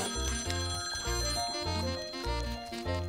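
A telephone rings in a cartoon household, its bright electronic tone repeating steadily through the whole stretch in an even ring pattern over low pulsing music, with no talk.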